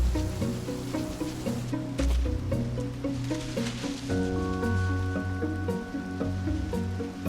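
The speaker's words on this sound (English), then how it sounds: "As the shower starts to evolve into a storm, the band makes it to their forest home." Rain shower building into a storm in a forest, a steady hiss of drops on leaves and ground beneath a layer of sustained music.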